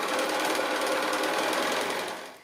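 A sewing machine stitches binding on a fabric star coaster with a rapid, even whirring buzz. It runs close and steady for about two seconds, then slows and fades.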